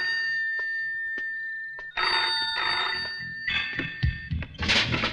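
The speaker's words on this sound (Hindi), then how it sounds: "टेलीफोन?" A telephone rings in repeated electronic trills, close and clear, followed by some thumps and handling noises toward the end.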